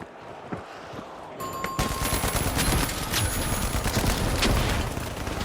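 Dense, sustained rapid gunfire in the shooter game The Finals, loud and continuous bursts layered over each other after a brief quieter start.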